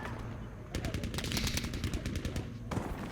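Gunfire in the video game Battlefield V, rapid automatic bursts in a dense rattling stretch lasting a couple of seconds, loud and close, with a faint voice beneath.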